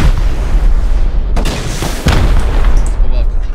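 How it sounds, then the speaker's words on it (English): Rocket blasts in the survival game Rust strike a player as loud, booming explosions. Two sharp impacts stand out over continuous rumbling battle noise. "I got rocketed by someone."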